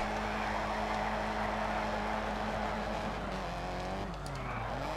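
Rally car in Colin McRae Dirt 2 skidding after a handbrake tap, engine droning loudly and steadily with tires scrubbing, pitch sliding down near the end.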